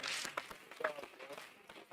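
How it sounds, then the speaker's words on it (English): An audience at a university medical students' annual public lecture claps, a dense spatter of hand claps that starts strong and thins into scattered claps, moderately distant. "Please a round of applause for Awolowo Health."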